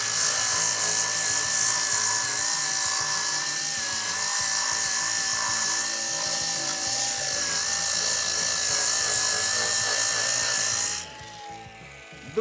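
A Procraft AG125 cordless angle grinder spins at its first speed setting, a steady high whine with a constant tone held for about eleven seconds, loud and close, before it winds down and quiets.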